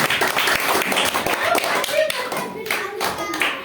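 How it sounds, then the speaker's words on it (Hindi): Audience clapping for a young participant at a junior-group English speaking competition, a dense steady patter of many hands lasting the whole stretch at close range, with some talk faintly underneath. "ताली बजाओ भाई राधिका की।"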